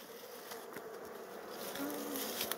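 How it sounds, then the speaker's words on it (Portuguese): Bees swarm over honeycomb in a dry tree stump during honey harvesting, a dense, steady buzzing drone with a few louder passes near the listener, no talk. "Olha um monte de abelha aqui nesse lado aqui, pessoal, ó."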